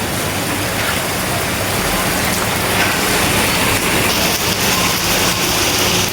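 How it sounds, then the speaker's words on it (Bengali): Heavy continuous rain after three days of downpour, a dense, loud, unbroken hiss of water falling on surfaces nearby, with no talk. "3 দিন যাবত টানা বৃষ্টি।"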